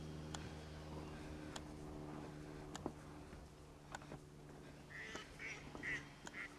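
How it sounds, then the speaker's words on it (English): Ducks quacking near the grounds of Bodiam Castle, faint and somewhat distant, with a few calls clustered toward the end over a steady low outdoor hum and scattered clicks. "Hello ducks."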